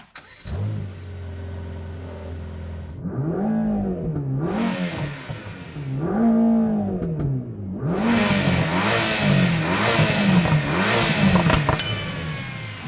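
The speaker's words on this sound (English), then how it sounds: "Let's start it up and have a listen to what this GT Black Series sounds like." A Mercedes-AMG GT Black Series 4.0-litre twin-turbo V8 cranks, catches and settles to a burbling idle, then gets blipped in several sharp revs, each roaring up and dropping back.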